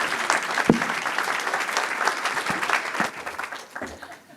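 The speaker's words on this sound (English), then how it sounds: "Let's give everyone one more round of applause." Audience clapping after a fast pitch event, a steady crowd applause with a few sharper individual claps standing out, moderately loud and tapering slightly toward the end.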